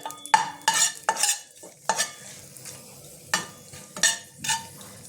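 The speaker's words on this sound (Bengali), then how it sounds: "তেলটা আমার গরম হয়ে গেছে, এর মধ্যে আমি দিয়ে দিলাম শুকনো লঙ্কাটা" Dried red chillies fry in a little hot oil, sizzling faintly in a pan while a utensil stirs and scrapes against the metal in short, irregular strokes.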